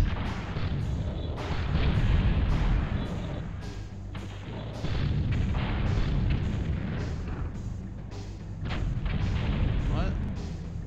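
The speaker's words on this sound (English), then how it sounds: "There we go, there's the grenades." Grenade explosions in the tank combat video game BattleTanx: Global Assault, a steady run of booming, thudding blasts that stays loud and dense throughout.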